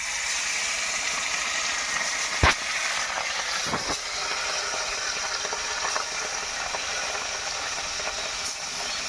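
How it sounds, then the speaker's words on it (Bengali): Fish sizzle in hot oil in a pan, a continuous crackling fry with a couple of sharp pops and clicks, close and steady with no talk. "তেল গরম হয়ে গেছে, এবার মাছগুলো ভেজে নেব।"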